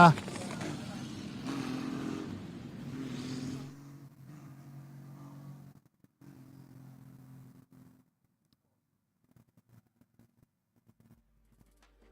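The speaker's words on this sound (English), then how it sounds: "not letting up, whipping that engine" A race car engine on a track runs hard on the limiter in second gear near the outer wall, a loud, rasping roar for several seconds that drops to a quieter low drone and then fades into near silence.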